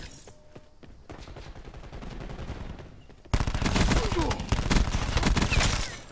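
Gunfire in the video game Black Ops 4, with steady rapid shots in the first half, then a louder, denser burst of automatic fire and explosions that fills the rest.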